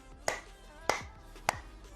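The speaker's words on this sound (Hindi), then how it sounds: "ऐसे तालियां बजाइए।" Three sharp hand claps close by, evenly spaced about half a second apart, from a palms-together clapping exercise done at home. Each is a crisp single slap with quiet between, and no voices.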